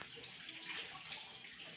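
Water sloshing and running steadily in a tumbler during dishwashing, a close, continuous watery hiss with no pauses over the short stretch.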